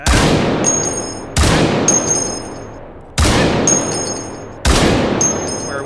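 Four loud gunshots from a gun in the VR shooter game H3VR, each a sharp close blast followed by a ringing metallic tail and a fading echo, spaced about a second and a half apart.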